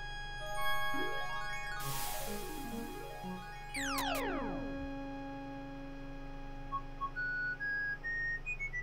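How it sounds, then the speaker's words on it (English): A character in a 1993 Sierra DOS game demo whistles through AdLib/Sound Blaster synthesis: a few quick, bright sliding whistle tones stand out over steady synthesized game music and background hum. "He was whistling."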